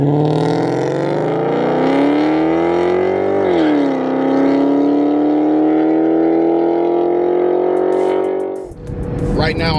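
A Ford Mustang V8 engine drives steadily from inside the cabin, a loud continuous drone that rises in pitch, dips briefly as it shifts, then climbs again before cutting off near the end.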